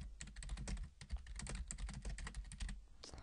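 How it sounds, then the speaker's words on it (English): Quick irregular clicking of keys on a computer keyboard as a name is typed in, close and clear with no talking. "now type in your name"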